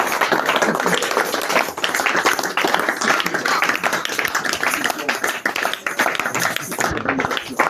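A church congregation applauds in acclamation with dense, continuous clapping that fills the room, voices mingling underneath.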